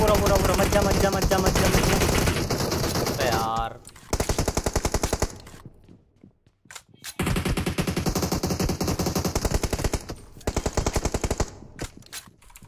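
Rapid automatic gunfire in a mobile battle royale game, loud sustained bursts with brief pauses between them, a player's voice heard over the shooting.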